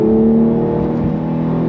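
A Porsche 911 Carrera T engine under throttle, a loud, close, steady harmonic drone with a rising tone as the car accelerates, no voices over it.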